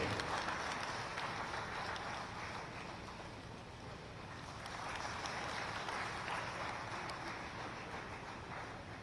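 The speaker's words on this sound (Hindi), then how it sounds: "जोरदार तालियों से स्वागत करें श्री शमशेर सिंह" Fairly faint, steady applause from an audience at a journalism award ceremony held during a birth-anniversary tribute event; the clapping runs continuously for about nine seconds and sounds somewhat distant, with no talking.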